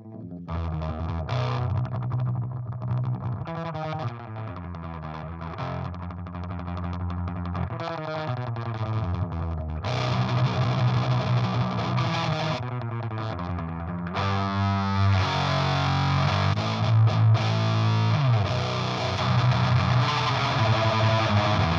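Electric guitar played through a modded Boss DS-1 distortion pedal with an A.I.B. Custom FX chainsaw mod, giving a dense, heavily saturated tone in continuous riffs that stay loud and steady throughout with no talking.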